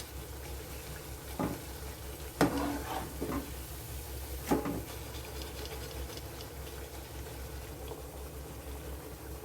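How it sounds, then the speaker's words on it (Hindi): Sutarfeni strands frying in hot oil, a soft continuous bubbling sizzle with a few sharper crackles and stirring sounds, fairly faint. "अपनी आखिरी वाली जो फेनी है वो फ्राई हो रही है"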